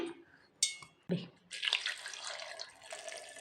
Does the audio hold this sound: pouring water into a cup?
yes